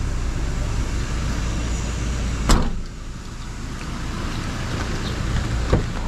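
A car at a family beach resort gives off a steady low engine rumble throughout, with one sharp thump partway through and a fainter knock near the end.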